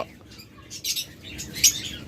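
Lovebirds at a farm holding hundreds of pairs, scattered sharp chirps and squawks in short bursts over a quiet background, some louder and closer than others.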